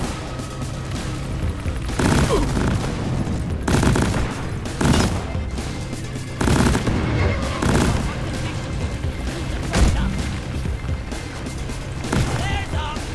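Sustained gunfire in the video game Deep Rock Galactic, with rapid automatic bursts and heavy booming blasts throughout, loud and dense, and some shouting mixed in.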